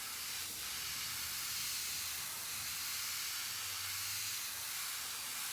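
An airbrush sprays paint in a steady, faint, airy hiss that runs without a break, with a person talking quietly underneath.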